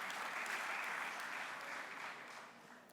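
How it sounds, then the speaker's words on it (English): Enthusiastic applause from a crowd at a small-business (SMME) conference in Sedibeng, a dense, steady wash of clapping that holds strong before tapering slightly toward the end, with no talk over it. "Can you give them a round of applause again?"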